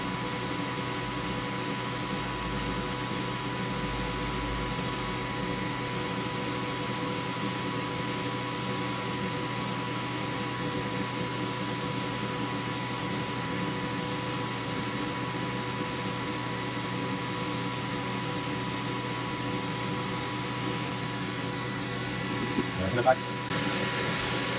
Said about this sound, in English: Let me turn on the fume extractor because that stinks really bad.